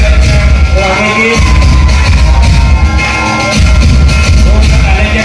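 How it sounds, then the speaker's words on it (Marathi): Loud, dense applause from an audience at a village felicitation ceremony for elders, with a bright noisy wash over a booming low end that briefly drops twice before surging again. "सर्वांनी जोरदार टाळ्या वाजवायचे."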